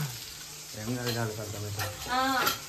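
Keema cutlets shallow frying in a pan give a steady sizzle throughout, while a voice talks over the frying.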